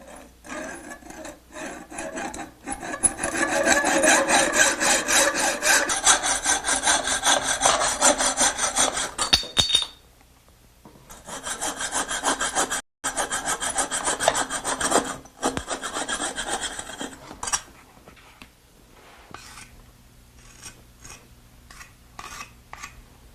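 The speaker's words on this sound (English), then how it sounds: "a rod saw is a rounded carbide blade that's fitted into a hacksaw frame" A rod saw with a rounded carbide blade in a hacksaw frame cuts through bathroom tile in rapid, rasping back-and-forth strokes, close and loud, pausing briefly before resuming more lightly.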